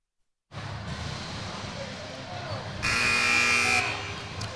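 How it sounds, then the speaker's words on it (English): Buzzer sounding during a college basketball game as play resumes out of a timeout, a loud sustained blast of about a second rising over steady arena crowd noise and muffled talk. "And the buzzer sounds were coming out of the timeout"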